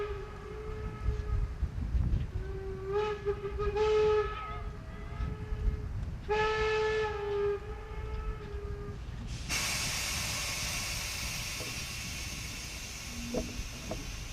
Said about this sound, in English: First we'll hear our locomotive's whistle